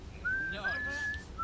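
A character in the Fable II video game whistles a thin, steady tune of sustained notes with a brief break, over game background noise, while a voice talks underneath.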